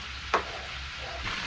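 Chicken sizzles steadily in hot oil on a farm, a soft continuous crackle with a brief scrape or stir near the start.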